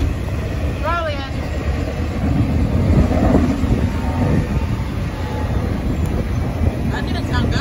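CSX freight train Q161 rolls through the Lake Avenue (NY Route 19) crossing in Bergen, New York, a continuous broad rumble mixed with heavy wind buffeting on the microphone, while people talk nearby.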